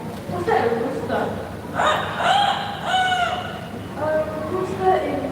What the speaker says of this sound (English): A rooster in the park.